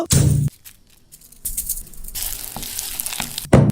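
A cartoon sound effect of food frying in hot oil: bursts of crackling sizzle that start loud, drop away, then return and swell near the end.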